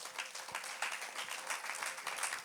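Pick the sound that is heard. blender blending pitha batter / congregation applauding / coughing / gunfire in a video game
congregation applauding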